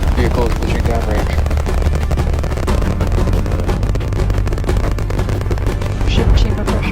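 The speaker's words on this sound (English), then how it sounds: "We have liftoff. Vehicle is pushing downrange." A SpaceX Starship rocket lifts off on its fourth flight, a dense, loud, continuous roar with heavy low rumble and crackling bursts that stays steady throughout, with faint voices underneath.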